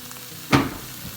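Sweet sauce hits spicy mango chicken in a hot pan, giving a single short burst of sizzling that swells loudly and then settles into a low, steady hiss.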